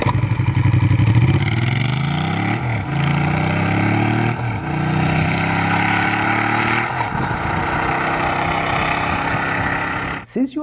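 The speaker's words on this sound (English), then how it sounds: "It is a fantastic sounding V-twin" A Ducati Diavel 1260 V-twin motorcycle engine running close by. It gives a loud, throbbing exhaust note that climbs and falls through several revs, then cuts off abruptly at the end.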